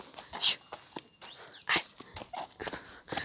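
Dogs barking in short, scattered bursts, fairly close, with people talking quietly in between.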